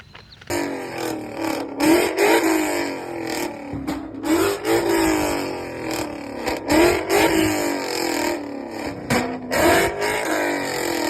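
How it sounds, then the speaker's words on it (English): A 2011-2014 Ford Mustang GT Coyote V8 revs repeatedly, rising and falling in steady throaty bursts through a loud Corsa exhaust, close by with no talking. "I will go ahead and put some video clips in now of me revving the car"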